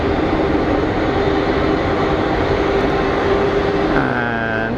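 A steady, loud roar of an EasyJet airliner on final approach at Geneva Airport fills the whole stretch, with a rising whine sweeping in near the end.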